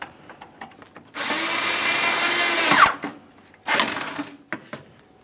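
A power tool, likely a drill or impact driver, runs a loud sustained burst tightening a bumper cover mounting bolt on a 2017-2024 GMC Acadia, then a second shorter burst follows after a pause.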